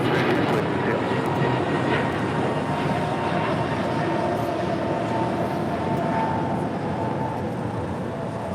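An American Airlines Airbus A321neo departs LAX for Reagan National, producing a continuous loud jet rumble and whine that holds steady throughout, with voices faintly audible beneath the engine noise.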